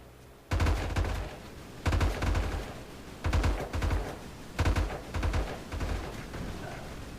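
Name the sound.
many shotguns firing in video game M.A.V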